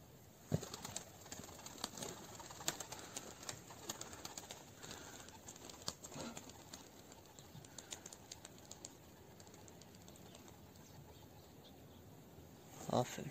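Pigeons coo softly with occasional wing flaps, quiet and a little distant, with faint voices in the background.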